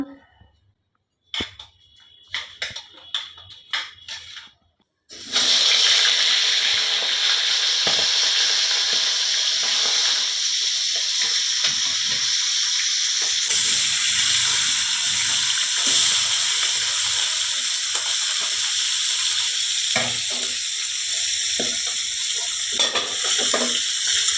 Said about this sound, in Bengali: মাছের মাথাটা ভাজবো পরিমাণ মতো হলুদ গুঁড়ো দিয়ে দিলাম